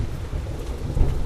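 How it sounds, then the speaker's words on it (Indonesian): Rain and thunder outside, a steady low rumble with a dense wash of rain, a slightly stronger swell near the end of the short stretch, no voices. "di luar sedang hujan"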